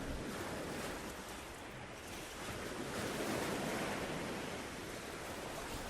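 Ocean waves wash onto a beach in a relaxation recording, a soft, continuous surf hiss that swells gently and recedes, quiet and steady with a breezy quality, with no voice over it.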